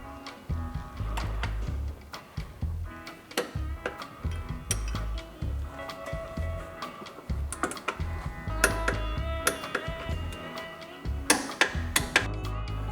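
A wrench tightens the muffler bolts on a Can-Am Maverick off-road vehicle, making bursts of quick, close, rhythmic ratcheting clicks separated by short pauses, with no talking.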